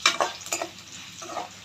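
Urad dal, chana dal, cumin and dried red chillies fry on low heat in a pan, heard as soft sizzling with a few scraping stirs of a utensil close by. No one speaks.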